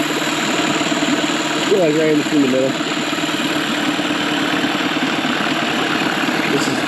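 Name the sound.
two-stroke outboard boat engine idling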